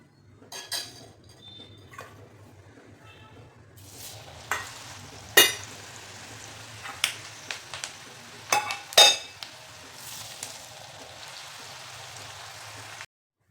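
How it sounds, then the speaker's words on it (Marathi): Chakli fries in oil with a faint hiss, punctuated by scattered sharp clinks and scrapes of utensils against the pan, close and fairly quiet, with no voices, ending in abrupt silence. "तर अशा पद्धतीने सर्व तळून घ्यायचे आपल्याला"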